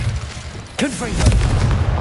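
Confringo explosive spell cast in a Hogwarts video game, a sharp blast followed by booming rumbling impacts, close and loud, with a brief voiced exclamation just as it fires.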